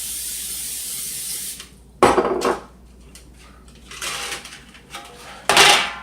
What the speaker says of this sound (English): I sprayed my pan